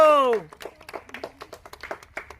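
Small children clap their hands during a number-guessing kids' game; a voice speaks briefly at the start, then a quick, uneven run of close claps continues to the end.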